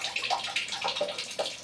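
Steady water flow running through the hose of an RO (reverse osmosis) water system during end-of-season storage, a continuous close hiss and splash with small gurgling surges and no talk.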